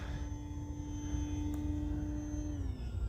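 The electric motor of a Durafly Tundra V2 RC airplane whines steadily in flight, a thin sustained tone over low wind rumble that drops in pitch near the end as the throttle eases back.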